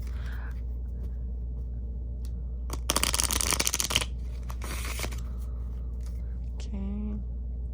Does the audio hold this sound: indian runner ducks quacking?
no